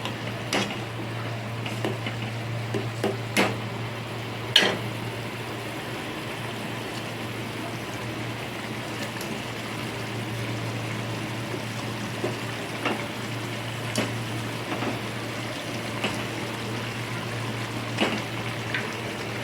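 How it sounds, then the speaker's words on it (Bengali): Fish curry broth made with yogurt and water simmers gently in a pan, soft bubbling and faint pops over a low steady hum, with a few louder clicks scattered through. "জল দেওয়ার পরে দেখুন ঝোলটা আমার একটু ফুটে উঠছে"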